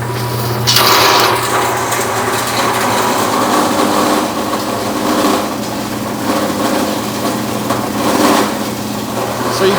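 A BDG Compact 1 mini granulator chops plastic into small pieces with a loud, continuous mechanical grinding and rattling over a steady motor hum, with crunching surges as material feeds through.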